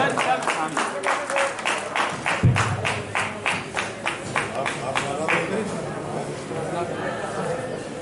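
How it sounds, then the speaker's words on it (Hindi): A crowd at a cycle rally reception in Lalitpur claps loudly in a fast, steady patter, with voices talking over the applause. "एक बार जोरदार तालियां।"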